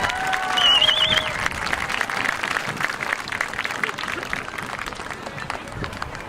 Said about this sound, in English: Dr. Bauer, give him a round of applause